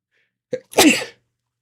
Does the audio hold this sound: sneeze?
yes